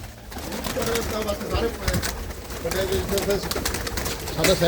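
Pigeons coo in a loft kept by a Punjabi hobbyist, soft repeated calls sounding close by while people talk over them.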